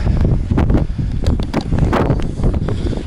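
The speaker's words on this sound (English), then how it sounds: "You can hear the wind now. It's really windy." Strong wind buffeting a mobile phone microphone outdoors, a loud continuous rumbling roar with gusty fluctuations and no pauses.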